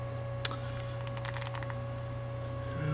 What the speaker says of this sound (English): Just going to type some stuff.